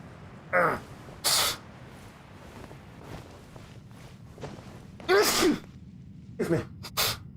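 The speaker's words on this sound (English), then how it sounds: "I had to sneeze." One person sneezes several times, short sharp bursts spaced through the clip, close and fairly loud over faint background noise, with no talking.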